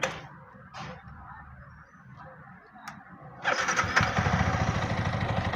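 A Yamaha MT15 motorcycle engine with a low-pickup problem cranks and starts at about 3.5 seconds, then runs steadily and fairly loud and close, after a quieter stretch of faint background sounds.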